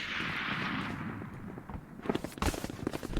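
Shots from the Marshall sniper rifle in the tactical shooter Valorant, a cluster of sharp cracking reports arriving in quick succession near the end after a hissing, quieter lead-in.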